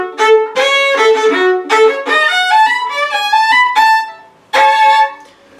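A fiddle plays a fancy ending to a tune: quick bowed runs and phrases with rising note sequences, a short pause, then a final accented figure that rings out, loud and close with no talking.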